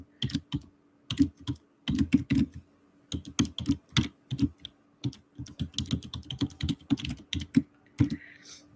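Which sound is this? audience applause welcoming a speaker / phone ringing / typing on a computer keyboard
typing on a computer keyboard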